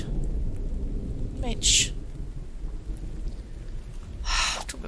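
Rain falls steadily in the video game The Infected, with a low, continuous hiss and rumble broken by two brief, sharp crackling bursts of thunder, while someone speaks briefly.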